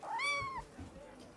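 A small male kitten gives one clear rising-falling meow lasting about half a second, close to the microphone, followed by quiet handling noises and a faint voice.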